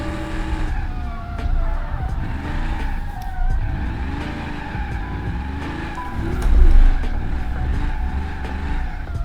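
A car in BeamNG Drive is thrown sideways in second gear, its engine droning steadily while the tires squeal and wail in long sweeping bursts, with one louder surge near the end.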